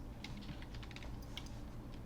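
Quick, soft keystrokes on a computer keyboard patter in an uneven rhythm, faint and close against a low background hum.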